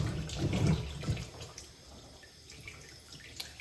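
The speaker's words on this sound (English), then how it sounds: "Run it under the water." Tap water runs over food held in a kitchen sink, with a few louder splashing bursts at first, then a softer, steady trickle and scattered drips close by.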